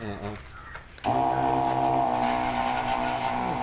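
A battery-powered water pump motor switches on after a moment of talk and runs with a loud, steady, even whine until the end.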